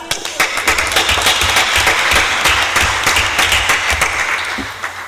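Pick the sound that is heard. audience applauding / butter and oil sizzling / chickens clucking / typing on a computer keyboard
audience applauding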